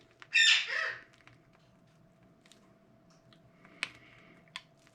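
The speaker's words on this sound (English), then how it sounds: "Real life here, folks, with the birds." A pet bird in a home kitchen lets out one loud, close squawk near the start, followed by faint scattered clicks and taps over a low steady hum.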